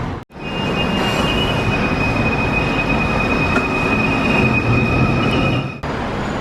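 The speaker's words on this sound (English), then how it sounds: "We're taking the LRT." An LRT light rail train rolls through a Kuala Lumpur station, a loud steady rumble of wheels and carriage noise with a thin high whine running through it, continuous for several seconds with no talk.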